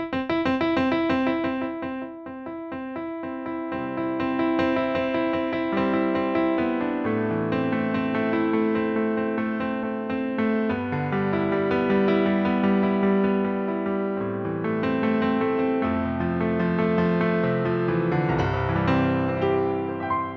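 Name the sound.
Donner DEP-20 digital piano via headphone output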